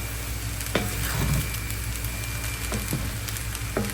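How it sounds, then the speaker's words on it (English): Steady sizzling and crackling of fried rice frying in a hot pan, with a few sharper pops and stirring scrapes over the continuous hiss. "you hear that little sizzle? Like a little crackling?"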